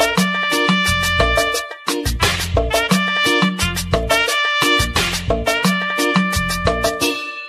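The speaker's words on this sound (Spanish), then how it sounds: "Y la trompeta empieza a sonar con un poco de tristeza, pero siempre con un caché alegre que suena así." A trumpet plays a wistful yet cheerful melody over steady, rhythmic band accompaniment in a Honduran tropical-style tune, loud and continuous with short repeated phrases.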